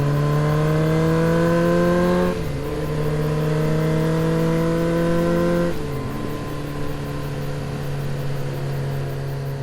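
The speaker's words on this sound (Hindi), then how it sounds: "मैंने धड़ाम से एक्सीलेटर बढ़ाया और बाइक को भगाया।" A motorbike engine revs in long steady tones that drop twice as gears shift while accelerating, loud and close with no talking.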